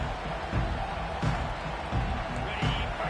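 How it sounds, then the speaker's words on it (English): A stadium crowd roars and cheers in the College Football 25 video game, a steady wash of noise swelling in places beneath a commentator's voice. "This crowd trying to show them what it's going to be like all day in this house"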